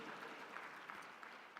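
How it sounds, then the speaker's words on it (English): An audience at a presidential inauguration event claps, a dense, faint, evenly sustained round of applause heard from a distance. "From Burkina Faso, a round of applause."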